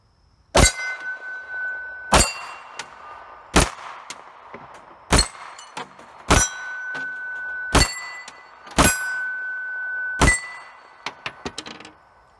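An Israeli military surplus FN Hi Power pistol fires at steel targets: eight sharp shots at uneven intervals over about ten seconds, each followed by a bright metallic clang that rings briefly.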